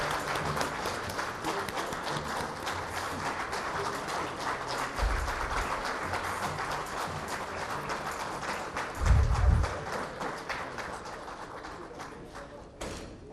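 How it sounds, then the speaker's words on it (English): Audience applause welcoming Sikkim's Prem Singh Tamang to the stage at the India Today State of the States Conclave in New Delhi, a steady dense clapping from a large crowd lasting throughout, fading near the end. "let's give him a warm round of applause."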